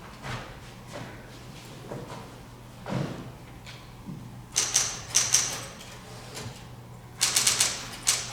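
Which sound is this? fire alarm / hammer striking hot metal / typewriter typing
typewriter typing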